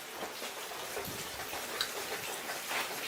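Rain falling outside during a hurricane, a soft, steady patter of drops with occasional sharper ticks, fairly faint and with no talking.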